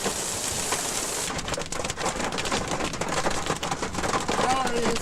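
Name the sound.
hailstorm with gusting wind and rain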